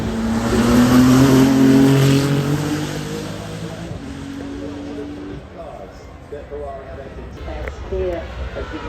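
Ferrari 499P-style track-only hypercar, the 499D, with an engine revving toward 9,000 RPM at the Goodwood Festival of Speed, loud and close at first then easing off, with crowd noise and talk over it.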